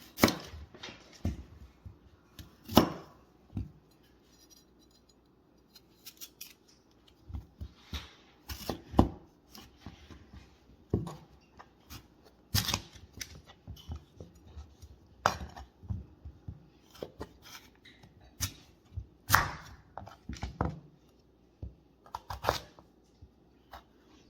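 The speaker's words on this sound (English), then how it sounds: "And we're trimming up our potatoes." Knife trimming potatoes on a cutting board while preparing bean cakes, giving irregular sharp cuts and taps, some louder clacks, spread through the clip with no talk.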